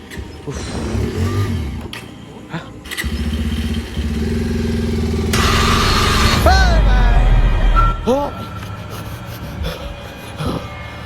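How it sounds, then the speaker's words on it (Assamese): A motorcycle outside an abandoned building at night cranks and catches, settling into a steady idle and then revving, close by, while people talk nearby. "গাড়ীখন ষ্টাৰ্ট দি জল্দি ষ্টাৰ্ট দি"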